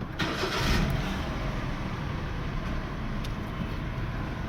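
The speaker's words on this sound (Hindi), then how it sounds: "स्टार्ट करो गाड़ी।" A Toyota Vitz car engine cranks and starts, then settles into a steady, fairly loud running rumble close by, with no talking.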